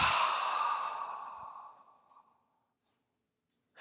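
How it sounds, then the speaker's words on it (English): A single long exhale, breathy and close, trailing off gradually over about two seconds before near silence. "Let's take a deep breath in. Inhale. And release."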